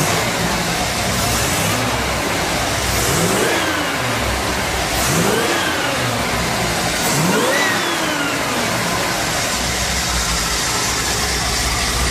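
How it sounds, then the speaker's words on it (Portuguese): A car engine with a programmable fuel injection system revs up three times in a row, each rise and fall clearly audible, loud and close, with steady engine drone in between. "pela aceleração do carro, ele não engasga, não tosse, não faz nada."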